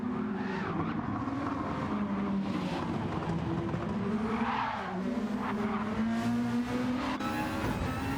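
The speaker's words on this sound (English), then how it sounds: "Riding along now with the fourth place car, Gavin Morrison, as they roar down the front straightaway through the tunnel out into the front stretch" Race cars in a Grand Valley GTO Gr.2 racing game event thunder down the front straightaway and through a tunnel, engines roaring steadily and loudly across the whole stretch with shifting pitch, tires squealing briefly at times.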